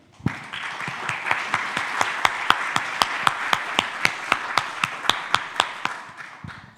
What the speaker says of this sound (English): Please welcome with a big applause